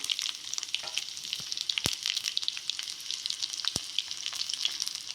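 Cumin, mustard seeds, garlic and dried chillies fry in hot oil, producing a steady, close sizzle peppered with crackles and a couple of sharp pops.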